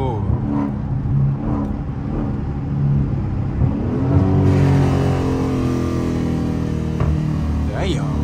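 Dodge 392 Scat Pack V8 revving and accelerating hard, its deep engine note rising and falling through gear changes, loud and close with a rumbling exhaust, while people speak over it.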